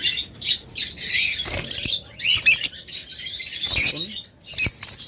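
Lovebirds chirp and squawk up close in rapid, shrill bursts, several birds overlapping in busy chatter with brief pauses and a flutter of wings.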